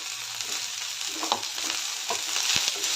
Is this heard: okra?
yes